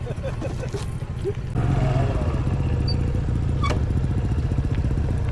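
A motorcycle engine runs nearby on an adventure ride toward a rural village, a steady rumbling idle that swells louder partway through, with people talking over it.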